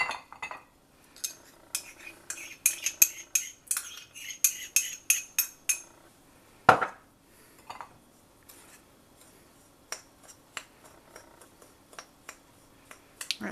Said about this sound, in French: J'ai fait fondre mon beurre au micro-ondes. Je vais le mélanger avec ma chapelure.